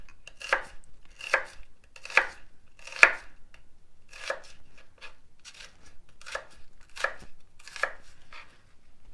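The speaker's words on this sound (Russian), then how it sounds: "Начнем мы сегодня с лука. Порежем его перьями и крупно." A knife chops through onion on a board in about ten crisp, evenly spaced cuts, close and clear with quiet pauses between strokes and no talking.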